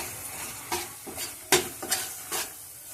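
Four green chillies go into a sizzling spice masala in a pan, giving several short scraping stirs and hissing bursts spaced about half a second apart over a low fry.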